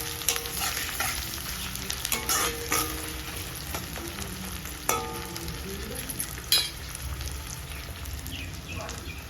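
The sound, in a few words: onions sautéing in pan for prawn gravy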